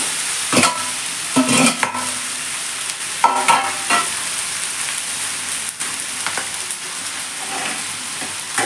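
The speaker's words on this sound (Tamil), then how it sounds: "இப்போ சாதம் சேர்த்துறேன்." Cooked rice sizzles and crackles in a hot pan for paneer fried rice, a steady frying hiss under intermittent scraping and stirring clatters from a spatula, with no talking.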